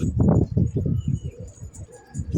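Pigeons, newly added birds in a loft, coo close by in repeated low, pulsing phrases that overlap through the whole stretch, with faint higher chirps above.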